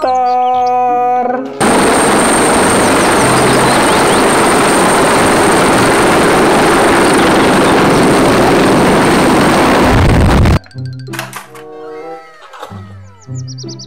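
A toy helicopter gives a loud, steady buzzing whir for about nine seconds, near the microphone, with chiming toy sounds before and after it.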